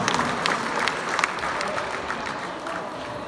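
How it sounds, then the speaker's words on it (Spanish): Sustained applause from a crowd, dense clapping filling the whole stretch at a steady level. "Para él un fuerte y caluroso aplauso."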